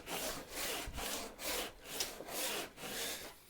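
A hand saw, like a kerf or rabbeting saw, cuts a groove in wood in about seven even back-and-forth strokes, each a rasping whoosh with short pauses between, quiet but close and alone.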